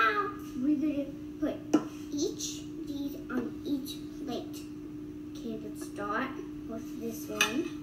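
Birthday cake batter being mixed in a bowl, a utensil clinking and scraping against the sides in an uneven rhythm, close and moderately loud, with a voice and other talk in the background.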